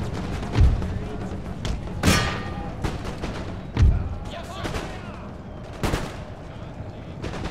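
Musket volleys and artillery fire in Empire Total War battle, with heavy booms and crackling shots at irregular intervals, some thuds deep and close, under a commentator's voice.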